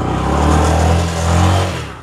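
A motorbike engine revs hard and unevenly as the bike slips while climbing a wet hill track, a close, loud, droning roar that swells and eases twice with no talk over it.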